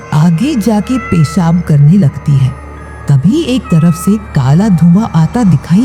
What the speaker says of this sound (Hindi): तभी एक बिल्ली की आवाज उसको सुनाई देती है।